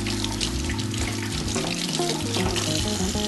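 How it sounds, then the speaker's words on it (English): Tap water runs steadily into a kitchen sink while hands are rinsed of raw meatball mixture, a continuous splashing stream with a low hum underneath and no talking. "I'm going to take my turn on my water, rinse off my hands just to get the meat off"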